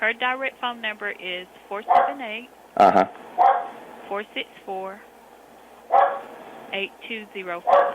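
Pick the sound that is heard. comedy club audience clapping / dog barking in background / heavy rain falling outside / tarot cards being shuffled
dog barking in background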